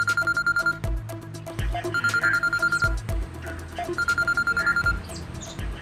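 A telephone rings in repeated electronic bursts, pausing between rings, with faint clinks and background activity underneath.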